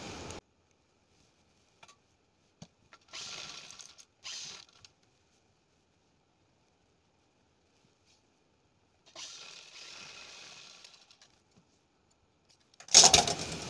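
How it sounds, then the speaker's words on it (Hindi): A sewing machine runs in short stitching bursts while the two panels of a princess cut blouse are joined, with long quiet gaps between runs and a louder burst at the end. "और मिलाने के बाद में हम दोस्तों फिटिंग की सिलाई लगाएंगे।"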